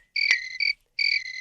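Crickets chirp in clear, sustained trills broken by short pauses, fairly close and alone against an otherwise silent background.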